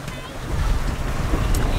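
A sailboat motoring through a harbor breakwater with its engine on standby: a steady, close wash of wind and water rushing past the hull, buffeting the microphone, with an engine hum blended underneath.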